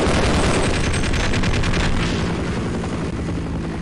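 Attacking helicopter and gunfire in the video game Half-Life: loud, dense rotor roar with rapid bursts of shooting filling the whole stretch, no talk over it.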